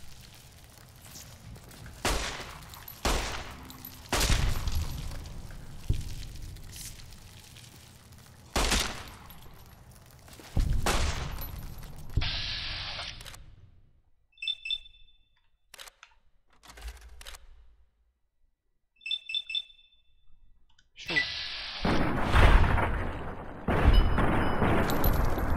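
Gunfire in the Fallout New Vegas video game, played on hardcore mode: loud sharp shots in irregular bursts and single cracks, separated by quiet gaps and a few short high electronic chirps.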